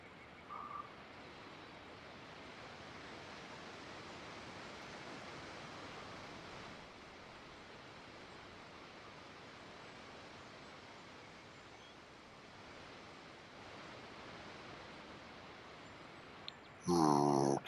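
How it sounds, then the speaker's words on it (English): A waterfall in The Sims 4 video game makes a steady, even rushing of falling water that continues unbroken, at moderate loudness throughout, with a brief louder sound near the end. "Very good animation for the waterfall."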